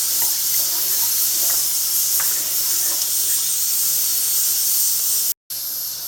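Turkish yogurt soup, yayla çorbası, boiling in a pot, a steady close hiss of bubbling and steam that cuts out briefly near the end.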